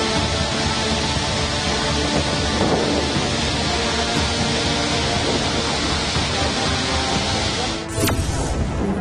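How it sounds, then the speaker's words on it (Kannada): Gokak waterfall, swollen after heavy monsoon rain and plunging 180 feet, gives a dense, continuous roar of broadband rushing water, loud and steady throughout. "180 ಅಡಿ ಎತ್ತರದಿಂದ ಧುಮ್ಮಿಕ್ತಾ ಇರೋ ಜಲಧಾರೆ"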